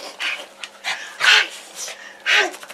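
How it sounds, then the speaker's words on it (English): Excited dogs greeting an owner coming home, with high whimpers, whines and short yelping barks in uneven bursts close by, some wheezy breathy squeals mixed in. "Mama just got home. The dogs are very happy."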